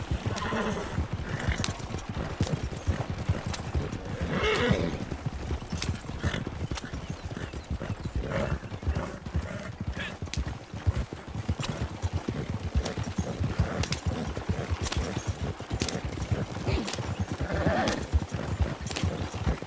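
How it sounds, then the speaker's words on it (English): A horse ridden through rough bushwhacking terrain beats out continuous, rhythmic hoofbeats close by, with occasional whinnies and neighs over faint background talk throughout. "the reins are being laid to the butt of that horse to keep that that energy up in the horse"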